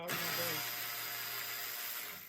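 A power tool, likely a drill or impact driver, runs in one steady, close burst while removing 10 mm radiator bracket bolts on a Honda Prelude during a radiator upgrade; it starts abruptly and keeps whirring evenly to the end.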